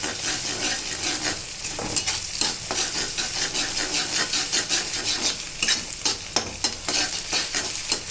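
Beaten egg mixture hitting a hot frying pan, loud steady sizzle with scraping stirring strokes throughout, close and continuous, no talking.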